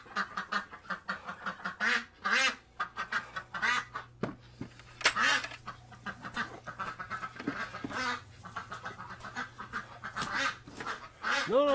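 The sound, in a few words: injured duck quacking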